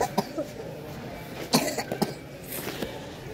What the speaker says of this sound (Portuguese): Tudo com tosse.